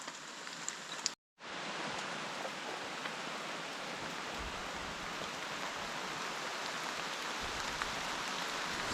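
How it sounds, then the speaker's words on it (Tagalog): Steady, heavy rain drums on the roof of a small hut, a dense hiss of drops that cuts out briefly near the start and then pours on unbroken. "Hindi pa humuhulaw ang ulan mga kasinag. Ang lakas-lakas."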